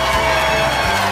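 Loud studio audience cheering and applause fill a late-night talk show set, a dense continuous roar with whoops over a short burst.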